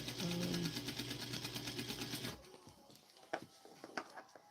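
A home sewing machine runs a steady, rapid stitching whir for a couple of seconds, then stops, leaving faint clicks and handling taps.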